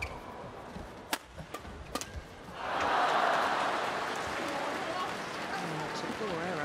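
A badminton crowd at the 2014 China Open women's doubles final breaks into applause after a rally, swelling into a sustained broad wash of clapping that follows a few sharp shuttle hits and lingers under commentary.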